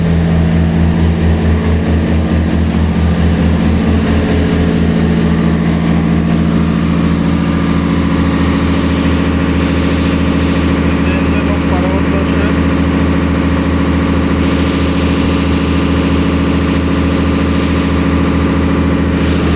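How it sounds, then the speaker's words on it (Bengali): The engine of the Parabat 10 passenger launch drones in a steady, loud, low throb with a regular pulsing beat, continuous and close, with faint voices in the background. "Parabat 10-এর engine room."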